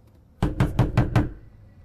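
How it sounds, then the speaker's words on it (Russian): Five firm, evenly spaced knocks land on a door close by in a quick, regular sequence, followed by silence. "Закрой глаза скорее, Даша, Яков и Антон, кто стучится в двери?"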